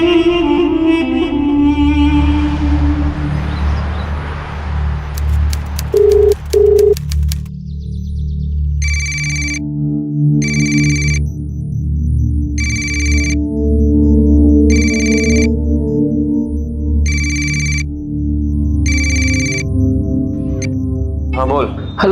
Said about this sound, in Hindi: सतीश, फोन क्यों नहीं उठा रहा है यार तू?